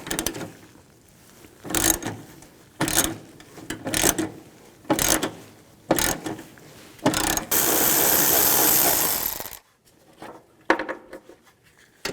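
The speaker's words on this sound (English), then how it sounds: "Use a 13mm socket. Take these 4 bolts out." A ratchet fitted with a 13mm socket backs out the battery tray bolts on a 1992-or-later Ford E-250 van, its loud clicking coming in short repeated bursts, then a long steady whir, all close up with no talk.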